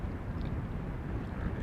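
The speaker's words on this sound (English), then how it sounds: "So this would be KLM flight 1798 inbound from Munich." KLM airliner inbound from Munich arriving at Amsterdam Schiphol on a windy day, a steady low broadband engine rumble with wind buffeting, continuous and fairly faint throughout.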